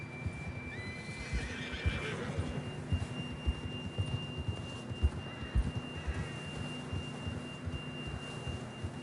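A horse whinnies and snorts in the Red Dead Redemption II game world while hooves clip-clop steadily, with a faint high whistle-like tone lingering over the quiet ambient backdrop.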